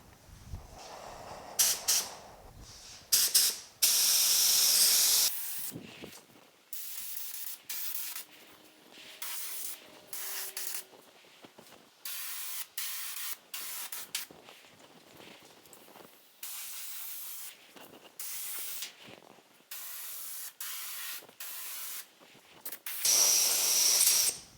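Spray gun applying dry guide coat over a 1950 Chevy truck hood, long steady hissing passes broken by short pauses, close and loud throughout.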